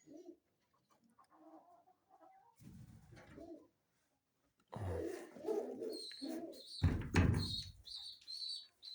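Pigeons coo softly during a morning feeding, with scattered bird calls and chirps, some thumps and flutters, and a rooster-like call in the mix, all fairly faint.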